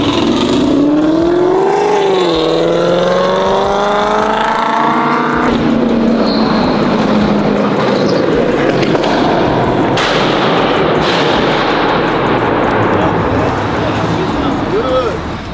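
Modified Ford Mustang on a freeway, its engine revving and climbing in pitch, then a harsh crackling exhaust roar, loud and close, with people talking and shouting throughout.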